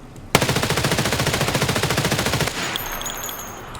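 Rapid automatic gunfire from Escape from Tarkov empties a magazine in one loud, evenly spaced burst of about two seconds. A brief mechanical clatter and ringing tail follow.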